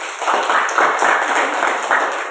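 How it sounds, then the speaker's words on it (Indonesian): A classroom group claps in a brief round of applause, a dense patter of hands lasting a couple of seconds at moderate loudness. "Tepuk tangan."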